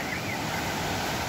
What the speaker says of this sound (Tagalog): Tsaka medyo malakas ang alon, kaya masaya.